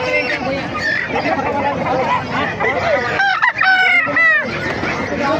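Roosters crow loudly and repeatedly, close by, over a busy background of clucking fowl and people chattering at a market in Bocaue.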